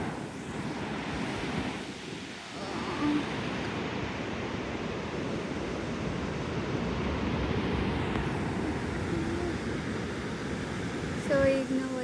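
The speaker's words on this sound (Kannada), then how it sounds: "ಅಲೆಗಳ ಸೌಂಡ್ ನಿಮಗೆ ಕೇಳಿಸ್ತಿದ್ಯಾ?" Ocean waves at Surathkal beach at sunrise make a continuous broad roar and wash, steady throughout and mixed with wind buffeting the microphone.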